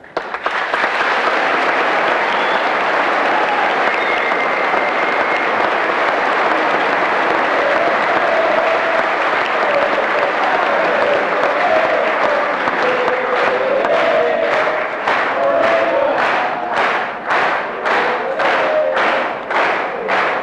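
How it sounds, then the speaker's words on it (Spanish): A university hall audience in Uruguay applauds Bolivian president Evo Morales with loud, sustained clapping and crowd noise that turns into rhythmic unison clapping toward the end. "todos nuestros aplausos."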